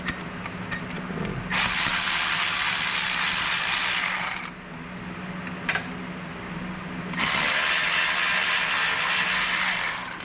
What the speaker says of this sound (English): gonna take these last two bolts off and drop the manifold down